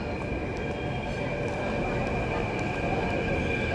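A metro train pulls into a station with a continuous rumbling roll, steady tonal whine of the drive and wheels, close and loud, with faint voices of waiting passengers beneath.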